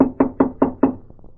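Five firm, evenly spaced knocks on a door in an old radio detective drama, close and loud, followed by a few softer trailing taps.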